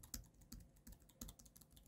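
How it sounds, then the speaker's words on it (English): Several quick keystrokes land in an uneven rhythm on a Jelly Comb Bluetooth multi device keyboard, sounding as soft, close clicks in quiet surroundings. "And then you can start typing away,"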